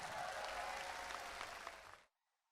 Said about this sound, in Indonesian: Kita kasih tepuk tangan mafia hukum Nafikula.